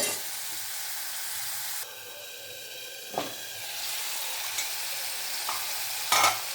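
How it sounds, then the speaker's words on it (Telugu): Gongura leaves sizzle and fry in hot oil for gongura chicken, with a steady hiss, brief stirring clatters and a few sharp pops, all without any voices. "ఇప్పుడైతే మనము ఈ గోంగూర అయితే మంచిగా ఉడికించుకుందామండి. కొంచెం బాగా ఆయిల్లోనే ఉడికిపోతే"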